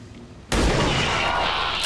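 A single gunshot in the video game XCOM 2 cracks sharply after a half-second of quiet, followed by a loud, sustained burst of blast noise that fills the rest of the moment.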